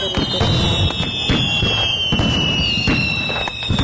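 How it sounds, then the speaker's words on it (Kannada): Another firecracker set off in a village-life cartoon, a dense continuous crackle of rapid pops and bursts, loud and close, running steadily throughout with no talk over it. "ಇನ್ನೊಂದು ಪಟಾಕಿ ಹಚ್ಚಿಸಿದ್ದಾನ"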